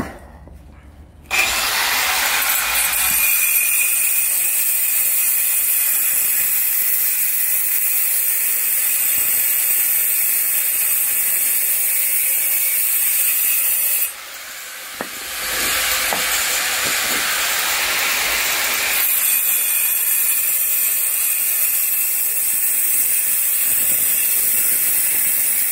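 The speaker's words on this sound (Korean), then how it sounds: "이거 작은 그라인더를 쓰신다고 할 때는 양쪽을 날리셔야 돼요" A small handheld angle grinder cuts into a granite wall stone for a garden bench, a loud steady high whine lasting most of the time, briefly easing in the middle before resuming at full strength.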